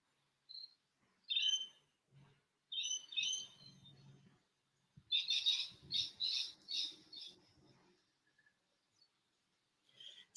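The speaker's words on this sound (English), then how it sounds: "So Jasper, is that a bird in the background I can hear?" A small bird chirps somewhere in a quiet room's background. It gives short, high, faint tweets in scattered bursts with silent gaps between them, including a quick run of several rapid notes, and no voices are heard.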